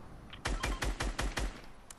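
Rapid bursts of gunfire in Fortnite Season 7, five or six heavy shots in a quick steady rhythm, punchy and close with a deep low thump under each crack.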